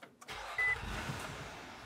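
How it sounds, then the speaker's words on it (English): A 3.5-litre V6 in a 2013–2020 Nissan Pathfinder starting up, with a short cranking whir that catches into a steady, close idle hum. "So we're going to turn the engine on again."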